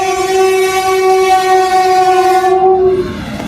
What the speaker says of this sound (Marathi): तर आज खूप दिवसानंतर रेल्वे बघणार आहे इथून जाताना.